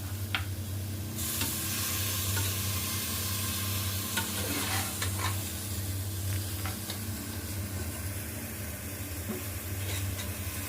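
Coriander, mint and tomato sizzle in a hot pan while being stirred for soya pulao, a steady close frying hiss with scraping stir strokes and a low background hum.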